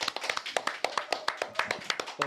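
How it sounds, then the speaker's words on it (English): A quick round of applause from a small group for congressional candidate Steve Stidham, with sharp, uneven claps close by that keep going steadily for a couple of seconds, and no talking. "But I wanted to get a quick round of applause."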